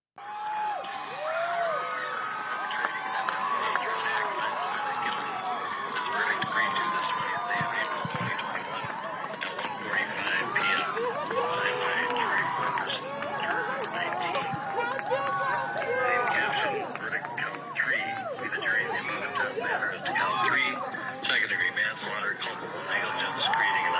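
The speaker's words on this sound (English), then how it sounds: "I want to show our viewers here in the United States and around the world the reaction of some of the crowd as they heard about the verdicts" A crowd in Minneapolis reacting to court verdicts, a steady roar of cheering, shouting and whooping voices that carries on throughout, fairly distant and continuous.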